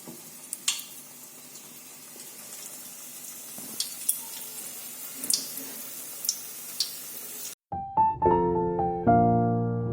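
Pieces of paneer frying in oil for chilli paneer sizzle softly and steadily, broken by occasional sharp pops and spatters. Near the end the sizzle cuts out and is replaced by a brief tonal chime.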